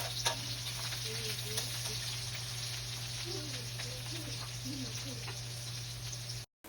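Chopped onion and garlic fry in a pan with a steady, soft crackling sizzle under a constant low hum, quiet and close, with faint movement in the background and a brief cut near the end.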